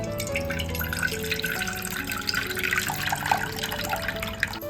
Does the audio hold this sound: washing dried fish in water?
yes